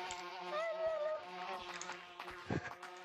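Buzzing bees in a video game bee chase minigame, a thin droning insect whine that wavers in pitch, fairly quiet and continuous, with a short soft thump near the end.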